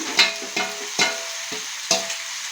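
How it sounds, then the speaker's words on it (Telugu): Tomatoes and broad beans are tossed into a frying pan of vegetable curry, giving a few sharp clattering stirs and drops against the pan over a soft sizzle, close up. "తర్వాత ఇదిగోండి టమాటాలు వేసేస్తున్నాను"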